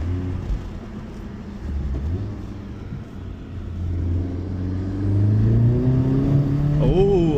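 A 2024 Honda Civic Type R engine revs and climbs through gear shifts, a steady rumbling drone rising in pitch with audible rev hang, heard from inside the car with a brief voice near the end.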